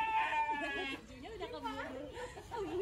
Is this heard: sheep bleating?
yes